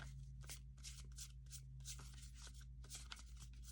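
Tarot cards being shuffled by hand in repeated papery riffles and slaps, close and fairly quiet over a steady low hum, with no talking.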